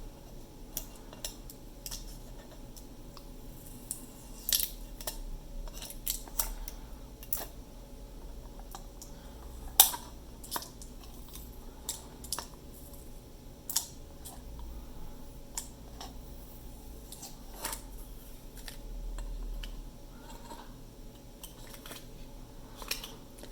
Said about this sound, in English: Take this tape off. Or I can't get this tape off.